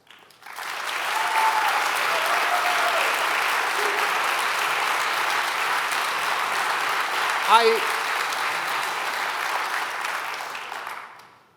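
A large audience applauds an ambassador's remarks at a Reform Judaism gathering, steady dense clapping for about ten seconds with a few faint voices and a brief louder rustle partway through before it tapers off.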